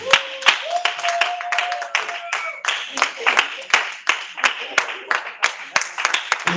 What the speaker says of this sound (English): Please put your hands together for me.